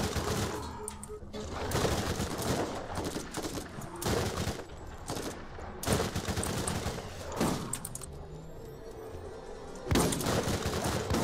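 Assault rifle fire in the Borderlands video game, a busy stream of loud shots and bursts running throughout, with talk mixed in.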